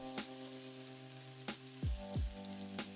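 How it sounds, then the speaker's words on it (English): Shallots sautéing in virgin coconut oil in a pan: a steady close sizzle with a few soft stirring knocks and clinks, and no talk. "Add the shallots and saute them for a few minutes,"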